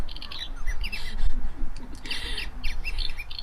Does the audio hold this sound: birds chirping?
yes